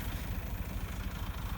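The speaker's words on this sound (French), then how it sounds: "Je suis désolé pour le son du tracteur" A tractor engine idles in a continuous low, even rumble on a farm, steady and moderately quiet with no other sounds over it.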